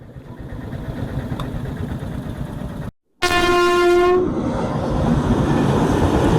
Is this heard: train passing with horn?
yes